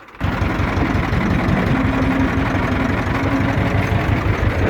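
Tractor pulling a cultivator across a dry field, a loud steady low diesel engine drone that starts abruptly and holds constant, close and unbroken, with no voices.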